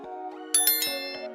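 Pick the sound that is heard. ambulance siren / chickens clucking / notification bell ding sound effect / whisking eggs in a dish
notification bell ding sound effect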